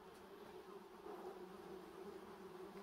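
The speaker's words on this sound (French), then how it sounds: "là-bas, il y a beaucoup d'abeilles." A faint, continuous buzzing of bees hums at a distance around an abandoned house, steady and low, with no voices over it.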